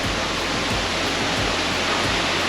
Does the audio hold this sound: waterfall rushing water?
yes